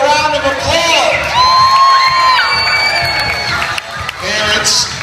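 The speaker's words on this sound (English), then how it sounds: "Give these people a round of applause." A crowd at a school game night cheers, whoops and claps for parents who did push-ups; loud, excited voices, some high-pitched shouts, and scattered clapping over several seconds.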